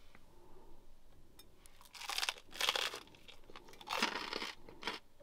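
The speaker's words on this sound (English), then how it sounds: "The bread's a bit crunchy." Crunchy bread topped with runny cheese and fig being chewed close to the mic, a few loud crunching bites in quick succession after a quiet start, with no talk.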